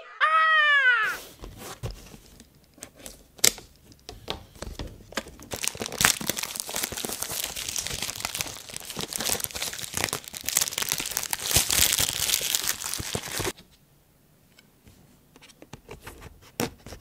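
Packaging for a Zhiyun Smooth X gimbal crinkles and rustles steadily up close during unboxing, with dense crackling handling noise for most of the stretch before it cuts to near silence and a few soft taps.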